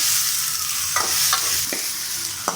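Tomato, onion and green chilli sauté in a pan for mint chutney, a loud constant sizzle broken by several sharp spoon scrapes and taps as the mixture is stirred.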